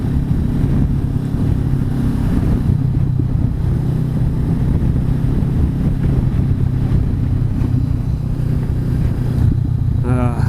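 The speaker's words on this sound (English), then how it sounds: "The crappy thing is the wind is so bad" Strong wind roars steadily over the microphone while riding a Honda CB500X motorcycle across a bridge in the San Francisco Bay Area, masking the engine in a constant loud rush.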